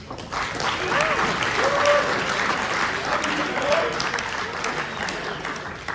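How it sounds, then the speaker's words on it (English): Sustained applause fills a banquet room at an awards event honoring the chain crew, steady and fairly loud throughout with faint voices mixed into the clapping. "So big round of applause for the chain crew."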